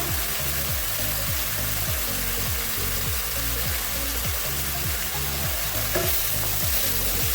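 Ground spices, turmeric and salt sizzle and are stirred in a hot pan for a potato, carrot and pea curry, a loud continuous hiss with scraping strokes repeating in a steady rhythm.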